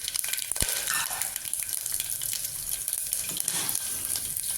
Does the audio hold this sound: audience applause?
no